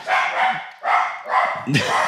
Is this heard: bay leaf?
no